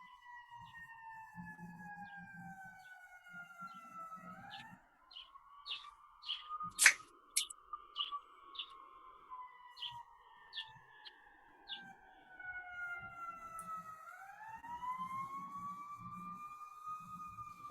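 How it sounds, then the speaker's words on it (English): Emergency vehicle sirens wail faintly in the distance in Chicago, rising and falling in long sweeping tones, with a few sharp clicks and some low murmuring speech. "Who's got the sirens?"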